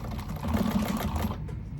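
Sewing machine stitching a garment pocket shut, a short close burst of rapid mechanical stitching that stops abruptly near the end.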